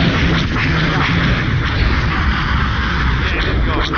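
Starship weapons fire from a Star Wars Empire at War space battle with Alliance forces, a dense continuous barrage of booming blasts and rumbling bursts, loud and steady throughout.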